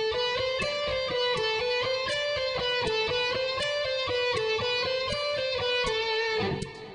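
Electric guitar picking exercise on the second string fretted with the third finger, an evenly paced run of picked notes with sharp attacks, close and clear with a slightly effected tone, ending with a soft scrape.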